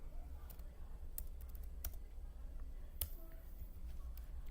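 Computer keyboard keys typed in MATLAB, a handful of sharp, irregular clicks heard close up over a low, steady background hum with no speech.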